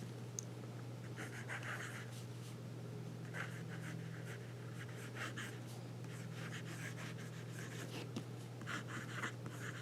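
A Jinhao 159 fountain pen with a bent nib lays wet ink on paper in a quiet room, giving soft, faint scratchy strokes in short bursts separated by brief pauses.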